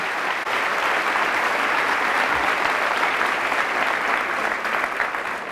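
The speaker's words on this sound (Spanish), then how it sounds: "Fuertes aplausos al Rey de Reyes y Señor de Señores." A church congregation applauds loudly and steadily, a dense, sustained wash of clapping that fills the whole stretch without letup and without any speech over it.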